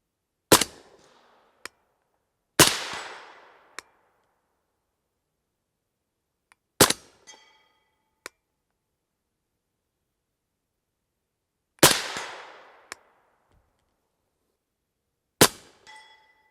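A 300 Blackout rifle with its gas set to five clicks fires five rounds, three subsonic and two supersonic, as sharp separate shots several seconds apart, each followed by a short ringing decay and faint metallic clinks between.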